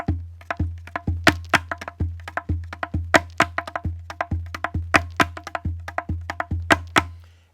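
A Hawaiian ipu gourd drum plays the ku beat for hula pa ipu accompaniment: a steady rhythmic pattern of deep booming thumps alternating with sharper slaps, close and alone, repeating throughout.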